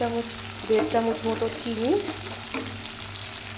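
Peas and potatoes frying in a spice paste that has begun releasing its oil, for matar paneer; a soft, steady sizzle runs beneath a nearby voice speaking, with a low hum throughout.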